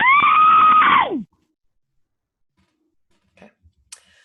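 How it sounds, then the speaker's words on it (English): A person lets out a single long, loud primal scream lasting about a second, then it breaks off into silence broken only by a few faint clicks. "So that is some of the primal screaming that we heard from people."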